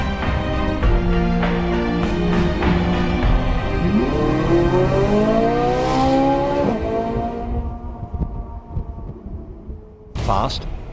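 A Ferrari 458 Italia's engine revs hard and climbs through the gears, a loud close rising wail with a shift and tire noise, ending in a brief sharp burst.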